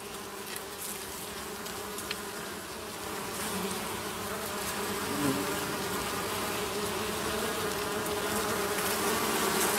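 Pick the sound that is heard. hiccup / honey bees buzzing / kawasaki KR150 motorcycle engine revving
honey bees buzzing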